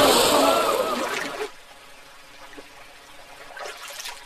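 Water splashing loudly as people bathe in a river in a film, a close rushing splash that drops off abruptly to a quiet trickle with faint small splashes.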